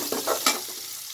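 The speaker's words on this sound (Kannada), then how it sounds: "ಸ್ವಲ್ಪ ಫ್ರೈ ಮಾಡ್ಕೊಳ್ಳೋಣ" Chopped onion fries in a pan for a cabbage palya, giving a steady close sizzle with a few brief stirring scrapes and no talking.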